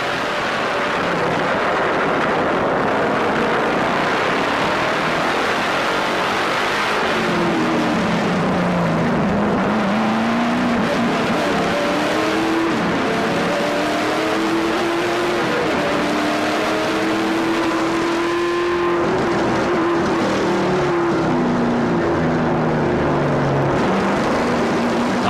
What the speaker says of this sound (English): giving you an idea of what these drivers are listening to all race long inside of those NASCAR Canadian Tire Series race cars